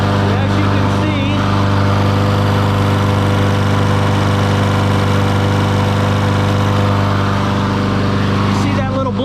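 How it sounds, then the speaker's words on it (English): A push lawn mower's small engine runs continuously at a steady, loud drone close by, with no change in pitch for the whole stretch. "I went ahead and fired up the mower"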